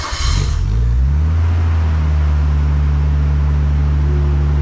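A Nissan Skyline fitted with an HKS Hi-Power 409 stainless exhaust and JJR front pipe cold-starts close by: a brief crank catches into a loud, deep, steady idle rumble that holds to the end.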